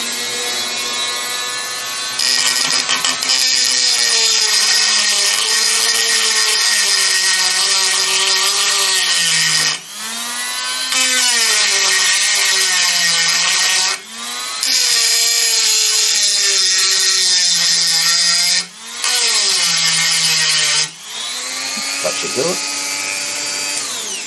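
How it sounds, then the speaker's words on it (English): A small Dremel rotary tool grinds away paint on a valve radio, a loud, steady high-pitched whine that dips in pitch under load several times and briefly pauses between passes. "trust the little Dremel tool"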